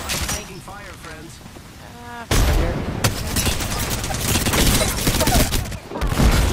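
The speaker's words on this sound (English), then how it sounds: "Thermite grenade out." Apex Legends on PS5 fills the space with loud, rapid game gunfire and a fiery thermite grenade burst, dense and continuous after a quieter opening with voices chatting.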